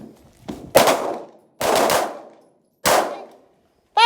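Handgun shots ring out one at a time at a shooting class, three loud sharp cracks spaced about a second apart with ringing decay, plus a fainter earlier pop and a final shot cut off at the end.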